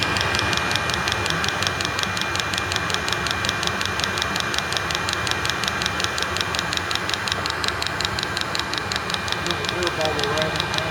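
An 8 kW Chinese diesel heater runs with a steady roar while its fuel pump ticks rapidly and evenly throughout, close and clear, with someone talking over it.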